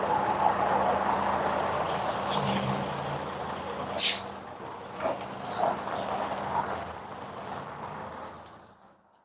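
A truck, apparently a Detroit DD13, DD15 or DD16 diesel, sits idling under steady engine noise, and one sharp air brake hiss bursts out near the middle. A few softer clanks and hisses follow before the sound fades out.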